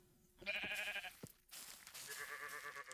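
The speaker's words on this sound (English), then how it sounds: "Hi, Mr. Sheep." Two sheep bleats in the StoneBlock 4 video game, each a wavering, nasal call about a second long, separated by a short pause and heard close and clear without talk.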